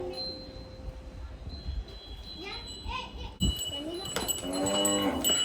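Cows moo now and then amid farmyard bustle after a cow has just calved, with children's voices and chatter nearby; a louder, closer moo rises near the end.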